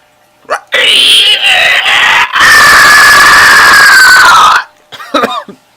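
A child imitates a shrill bird or pterodactyl scream in two long, loud, raspy screeches, with short vocal sounds before and after.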